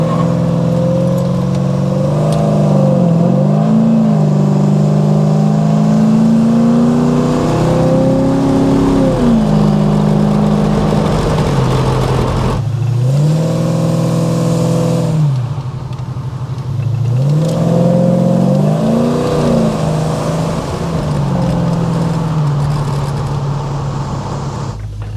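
A 1986 Chevrolet Monte Carlo SS heard from inside while driving, its engine droning loudly and rising in pitch through repeated revs and gear shifts, each climb followed by a drop, with no voices over it.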